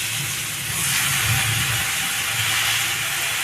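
Chopped pumpkin greens tipped into a pan of fried spices, producing a loud, continuous sizzling hiss that rises slightly after the first moment and holds steady to the end, with no voices.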